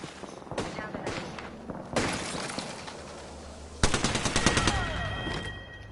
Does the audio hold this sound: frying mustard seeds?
no